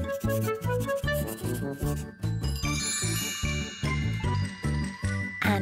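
Bright bells jingle in a steady, rhythmic pattern over a bouncy children's cartoon tune, with layered tinkling tones rising near the middle and ringing on to the end.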